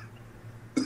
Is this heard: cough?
yes